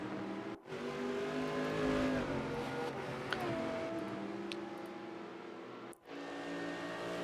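A Porsche GT3 race car engine in Rennsport holds a sustained, droning roar on the Nordschleife, with two brief drops in sound at gear shifts, heard steadily and without speech.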